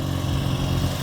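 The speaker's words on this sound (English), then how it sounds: "Oh, a motorbike." A motorcycle engine drones steadily in a classic car and motorcycle cavalcade, a close, continuous mid-pitched rumble with no voices.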